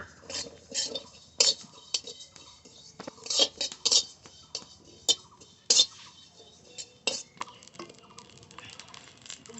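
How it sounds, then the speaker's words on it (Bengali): Seeds dry-roasting in a dry kadai give scattered, close rattles and scrapes, with irregular clinks and patters as they shift against the metal, and the sounds come in short bursts over a quiet background. "শুকনো কড়াইতে এইভাবে ভেজে নেবো"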